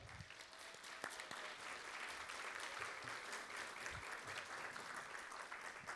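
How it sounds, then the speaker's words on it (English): Steady audience applause at a school district meeting, many hands clapping continuously at a moderate distance throughout, with no voices standing out. "Please give Dr. Sanko and the equity team a round of applause for that as well."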